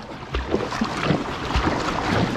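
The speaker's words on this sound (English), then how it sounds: "that was the worst paddling technique in the history of paddlers" A kayak paddled across open water, with rhythmic splashes and dips of the blade under steady wind noise on the microphone, close and fairly loud, no voices.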